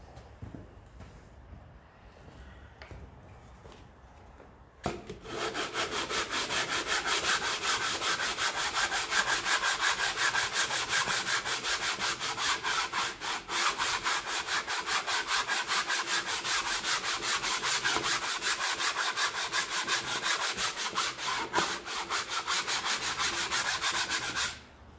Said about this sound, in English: Ready for a bit of sandpaper.